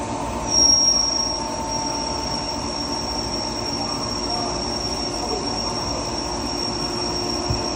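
A Star SR-32J CNC lathe with chip conveyor, bar feeder and high-pressure coolant runs steadily in a shop, giving a constant mechanical drone with a thin high-pitched whine and a brief louder swell near the start. No one speaks.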